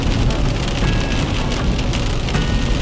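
Heavy rain drums steadily on the roof of a taxi during an evening shift in Zhytomyr, a dense, loud hiss heard from inside the car with no voices.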